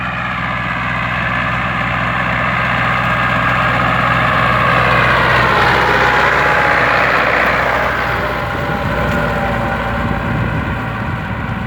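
A tractor engine runs steadily under load while pulling a rotary harrow through a barley field, a loud, continuous low drone that swells slightly midway before settling back.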